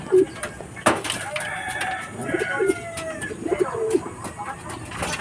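Pigeons coo in repeated soft, throaty calls close by, mixed with clicks, rustling and other bird sounds in a busy loft setting.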